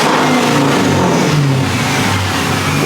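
A supercharged car engine revs hard at a car show, a loud, steady, throaty roar held close by for about three seconds with no talking over it.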